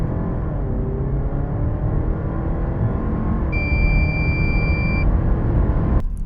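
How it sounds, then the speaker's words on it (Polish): A Jeep Grand Cherokee with a 2.0 turbo hybrid engine drones steadily with a muted whir, joined partway by a brief high electronic tone and ending with a sharp click. "niestety, jak słyszeliście, silnik bardzo, bardzo słabo brzmi."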